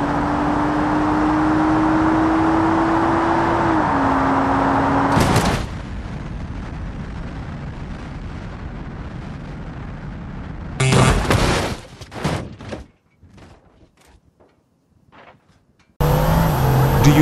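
A Toyota Supra in the BeamNG Drive racing game drives hard toward a giant bridge jump, its loud steady engine drone rising then cutting to quieter rumbling, followed by a sharp burst of impact-like noises, a near-silent gap and the engine returning.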